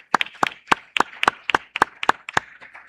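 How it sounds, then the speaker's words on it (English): Applause at a hotel company's annual general meeting, heard as a sparse run of roughly a dozen sharp, evenly spaced claps at moderate loudness, like a few people clapping in a slow rhythm. "Senior staff, please rise up and give them a round of applause."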